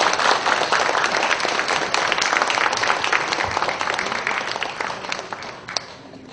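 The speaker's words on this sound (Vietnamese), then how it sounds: "xin chúng ta nhiệt liệt vỗ tay chào mừng" An audience at a Vietnamese poetry-and-music stage program applauds to welcome a guest, a dense sustained burst of many hands clapping that starts loud and slowly thins toward the end.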